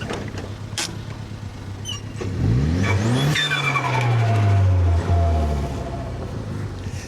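A car that has not run for months drives forward, its engine rising from a low idle into a loud, revving acceleration with pitch sweeping up and then holding steady, close and without talk.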